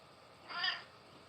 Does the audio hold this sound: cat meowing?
yes